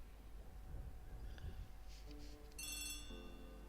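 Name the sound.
telephone bell ringing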